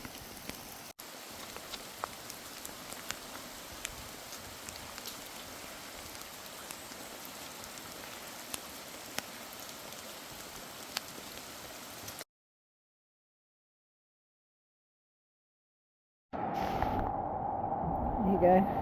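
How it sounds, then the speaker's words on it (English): Heavy rain pours steadily along the Kumano Kodo pilgrimage trail in Japan, a dense close hiss that drops out to silence partway through, then returns louder for the last few seconds. "It's just been mental today, the rain."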